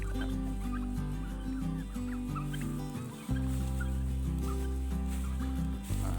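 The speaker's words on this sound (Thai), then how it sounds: "กับไก่พื้นบ้านไก่ชนที่เราเลี้ยงไว้" Turkeys and native fighting chickens on a farm by a garden give faint gobbles and clucks that sit under loud, steady background music.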